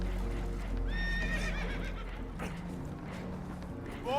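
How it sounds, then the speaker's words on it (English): Spooked horses neigh and whinny in Red Dead Redemption 2, several rising cries over a loud low rumble of creaking boat and water, with hoof clatter beneath and a fresh whinny starting at the end. "Horses are spooked, and we're taking on water."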